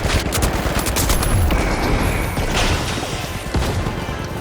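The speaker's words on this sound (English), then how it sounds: "Frag out! Toss the frag!" A frag grenade goes off in the video game The Finals amid loud, continuous crackling gunfire and explosive bursts, with no speech.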